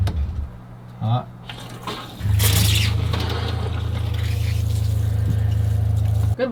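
Water runs steadily from a newly installed convertible shower fixture with good pressure, a sustained hiss heard close up with brief voices at the start.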